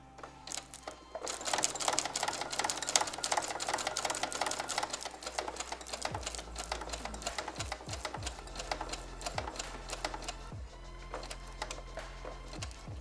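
A Brother SE625 machine stitches Velcro onto an embroidered patch: a rapid, continuous mechanical chatter of the needle, close and fairly loud, with brief pauses and the motor pitch shifting as the speed changes.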